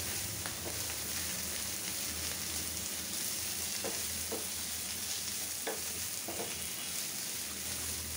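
Bottle gourd leaves stir-fry in a generous amount of oil, a soft, even crackling sizzle with a few light stirring taps, fairly quiet and uninterrupted by speech.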